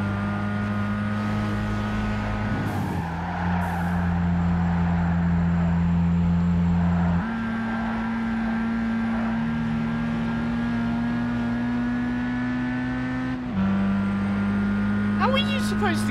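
Steady engine drone of race cars, a Subaru Impreza and a Mitsubishi Evo X, in the racing game Gran Turismo 5, holding sustained tones that shift pitch at gear changes; someone talks over it.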